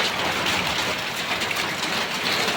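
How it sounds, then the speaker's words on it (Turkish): Steady, dense hiss of heavy rain pouring down in Ankara, a continuous broadband wash with no voices, loud and unbroken throughout. "Maşallah çok güzel yağıyor."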